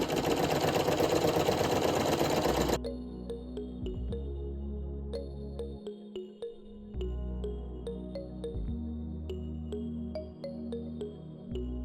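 A Brother PE900 embroidery machine stitches in a steady, fast mechanical whir with rhythmic ticking, close and fairly quiet, following a brief burst of louder noise at the start.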